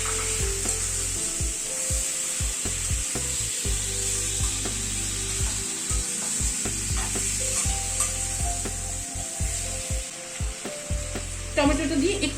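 Chopped tomatoes sizzle in a hot pan for a thin chicken curry with papaya, a constant close frying hiss broken by repeated scraping knocks of a spatula stirring, with a lid clatter near the end.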